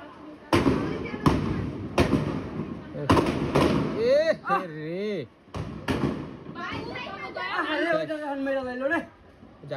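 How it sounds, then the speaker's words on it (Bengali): About seven rounds of gunfire ring out as sharp, loud bangs in an irregular burst, followed by shouting and crying voices layered over further shots. "তারপর প্রায় 7 রাউন্ড গুলির শব্দ।"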